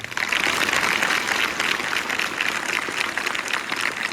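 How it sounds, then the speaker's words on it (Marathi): Loud, sustained applause from a village crowd at a notebook-distribution event in Sukewadi, dense continuous clapping at an even level for several seconds without talk. "आणि टाळी अशी झाली पाहिजे की गावात आवाज गेला पाहिजे"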